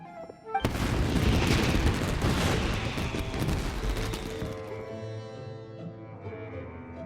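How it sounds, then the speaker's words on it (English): Fireworks going off in the Genshin Impact video game, a sudden loud burst that turns into a dense, crackling barrage and then thins into a lingering tonal ring. "Yoimiya, this is turning into a bit of a fireworks display."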